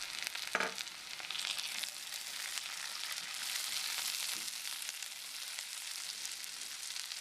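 Brinjal pieces added to onions frying in a pan, a soft continuous sizzle with an early clatter as they drop in, then steady quiet frying hiss with occasional light stirring.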